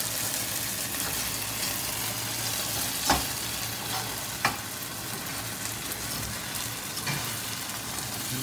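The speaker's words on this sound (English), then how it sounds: "Getting everything fried up here. Okay, fried corn is what the chef is featuring." Corn frying in a pan with a steady, close sizzle, punctuated by a couple of brief stirring or scraping clicks, with no voices.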